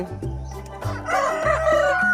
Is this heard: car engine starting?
no